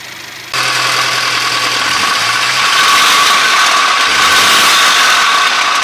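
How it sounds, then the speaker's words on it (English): Engine of a Mercedes C300 W205 at idle with a hard knocking, tapping fault, starting abruptly then running steadily, loud and close, with a fast ratcheting mechanical clatter and a low hum. "You hear a hard tapping sound when the car is idle."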